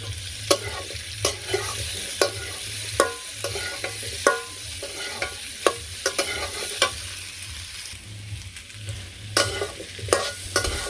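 Potatoes fry in oil in a Bangladeshi village kitchen, a low steady sizzle punctuated by sharp, regular spatula scrapes and knocks against the pan, close and clear.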